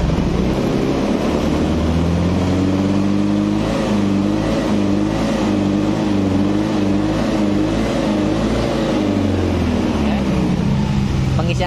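A Yamaha Freego scooter engine, with a faulty SGCU being checked, idles and then revs up in rising, steady surges, loud and close throughout with no talking.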